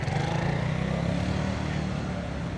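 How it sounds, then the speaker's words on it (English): A motorcycle engine drones steadily and loudly throughout, a close, continuous low rumble, during a Chinese New Year street event in Chiang Mai. "One motorcycle got through."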